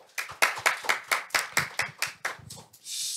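About a dozen distinct hand claps from a small audience at a panel discussion, sharp and fairly close, in an uneven rhythm, ending in a brief burst of noise.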